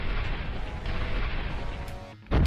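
Booming explosions rumble continuously from the video game Until I Have You, a dense, loud wash of blasts that cuts out briefly before another hit lands right at the end.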